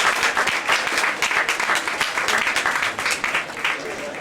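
A crowd at a Buffalo radio station's 50th anniversary and Hall of Fame party gives a hearty round of clapping, close and continuous with crisp individual claps pulsing through the whole stretch.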